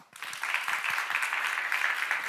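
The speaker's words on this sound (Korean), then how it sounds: "박수 좀 쳐봐." Steady applause from a church congregation at a seminar, dense clapping that starts abruptly and holds at an even level for a couple of seconds.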